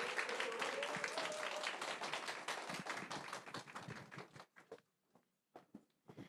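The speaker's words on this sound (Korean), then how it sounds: "큰 박수로 맞이해 주세요" A small indoor audience claps to welcome a speaker at a product presentation, with steady applause that thins out into scattered last claps, plus some faint voices.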